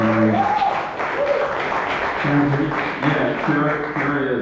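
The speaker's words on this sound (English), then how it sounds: "another round of applause for having an LA Beast here and being a part of this documentary" Audience applause at a documentary special screening Q&A, sustained clapping with voices and cheers mixed in over it.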